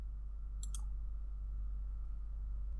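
A computer mouse clicks twice in quick succession, crisp and close, over a steady low electrical hum in a quiet room while planning software is being operated.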